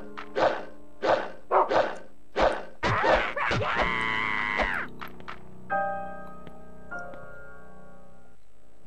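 A dog barks five times in quick succession inside the survival horror video game Rule of Rose, loud and close. Strained groans and a scuffle follow, then sustained tonal game sounds.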